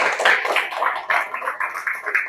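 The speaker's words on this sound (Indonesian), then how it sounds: "Ayo tepuk tangan buat Kaila." A class of students claps for a classmate in an Islamic religious education lesson, a dense, steady patter of many hands close by, running unbroken for a couple of seconds with no talk over it.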